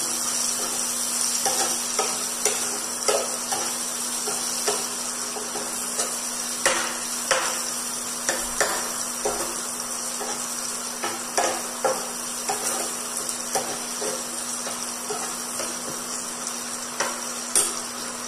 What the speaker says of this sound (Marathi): ಎರಡು ಉಳ್ಳಾಗಡ್ಡಿ ಮೀಡಿಯಂ ಸೈಜ್ ಉದ್ದು ತಗೊಂಡಿನಿ, ಅವನ್ನ ಉದ್ದುದ್ದ ಹೆಚ್ಚಿಕೊಂಡಿನಿ. ಈಗ ಅವನ್ನ ತಾಳಿಸ್ಕೊತೀನಿ.